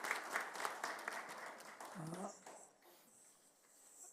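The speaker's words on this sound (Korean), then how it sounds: "우리 장로님 되신 분들 인사하시고 큰 박수 드리도록 하겠습니다" A church congregation claps for newly ordained elders at an ordination service, a modest wave of applause that fades out, followed by a quiet room with faint movement and a brief low voice.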